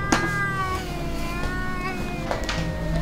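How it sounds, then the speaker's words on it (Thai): A domestic cat at home gives several loud, drawn-out meows in succession, sounding distressed, with faint background noise and no clear speech. "แมวร้องเสียงดังจังเป็นไรหรือเปล่าเนี่ย"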